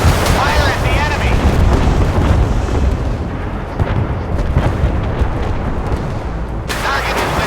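Missile launches and explosions in the naval combat game Force of Warships, loud, dense booms and rumbling blasts rolling one into another, with a brief burst near the end.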